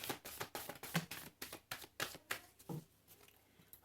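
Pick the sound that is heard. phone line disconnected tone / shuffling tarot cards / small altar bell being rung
shuffling tarot cards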